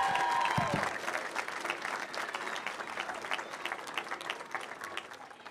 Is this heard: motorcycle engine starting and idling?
no